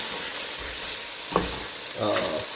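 Vegan ramen ingredients and spices fry in a pan with a steady close sizzle, while a spoon stirs them with a few scraping clatters.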